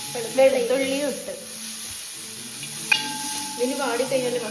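Onion, ginger and garlic sizzle in an uruli pan, a steady hissing fry heard close by while a person talks over it.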